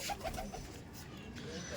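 Kala sabuj pigeons in a loft give a few soft, quiet coos near the start over faint background noise, with a low murmur of a voice.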